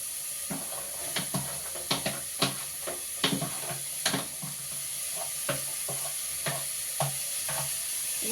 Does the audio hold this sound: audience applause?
no